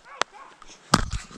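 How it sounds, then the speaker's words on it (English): A hunting dog barks while chasing a rabbit track outdoors: two short, sharp barks close by, with quiet talking around them. "I heard her bark."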